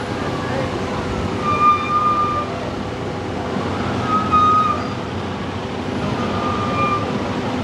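Sirens wail faintly in the distance at an outdoor emergency scene in South Bend, with fire crews and an ambulance on site as a storm moves in. They rise and fall under steady wind and street noise.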